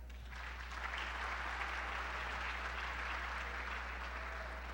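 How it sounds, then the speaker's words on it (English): Audience applause at a school spelling bee, a steady round of clapping from the crowd, moderately distant and fairly quiet, sustained for several seconds over a low constant hum. "We have a round of applause for them."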